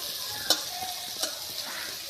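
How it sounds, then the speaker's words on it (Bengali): Fish frying in a pan in a home kitchen, a soft steady sizzle with a few sharp clinks of a utensil against the pan. "রান্নাবাড়ি হচ্ছে মাছ ভাজা হচ্ছে"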